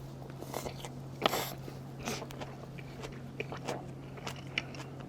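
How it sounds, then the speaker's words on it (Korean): Close crunchy bites and chewing of a bossam pork wrap with green onion salad, soft irregular crunches over a low steady hum, no talking. "그럼 파절이 싸서 한번 먹어볼게요"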